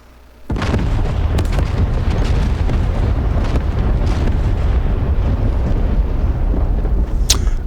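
A GBU-38 bomb strikes beside its target in the DCS flight simulator, a sudden loud boom that rolls into a sustained, heavy rumbling roar lasting several seconds.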